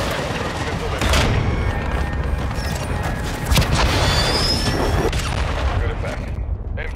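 Artillery fire mission in Call of Duty MWII multiplayer, heavy shells booming and crashing in a loud, continuous barrage with rumbling impacts and scattered gunfire layered over it.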